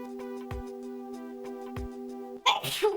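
A single sharp sneeze bursts out near the end, close and loud, after a stretch of steady tonal background music from the game Mother 3.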